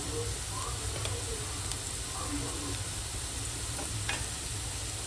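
Onion fries in hot oil with turmeric and coriander powder for a mutton dish, a constant soft sizzle with faint stirring scrapes under a low steady hum.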